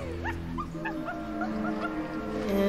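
Inside the video game Happy Game, a puppy gives a quick series of short, high whimpers and yips, fairly faint and close, one after another.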